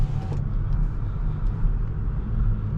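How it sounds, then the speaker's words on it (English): A 2022 Audi S4 Premium Plus idles out of a parking garage, its exhaust a steady, deep rumble that echoes off the concrete, close and continuous with no talking. "Let you enjoy the exhaust in this garage."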